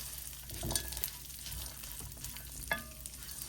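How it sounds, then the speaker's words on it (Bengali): Raisins fry in ghee with a quiet, continuous sizzle, broken by soft scraping stirs of a utensil in the pan, close and low in level. "সামান্য কিছু কিশমিশ দিয়ে আমি এই ঘির মধ্যে এটাকে একটু ভেজে নিচ্ছি"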